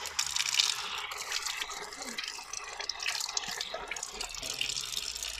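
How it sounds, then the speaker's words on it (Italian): Plain tap water runs steadily from a faucet as hands are rinsed after applying a liquid invisible-glove skin product, with continuous splashing and dripping close by and no talking. "Adesso le andiamo a sciacquare con semplice acqua."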